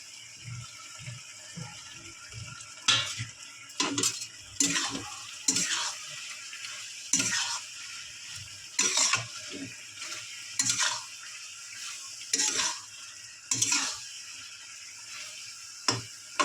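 Roasted spice powder is stirred into chalta (elephant apple) chutney cooking in a pot, with repeated spoon scrapes and clanks over a low, quiet simmer.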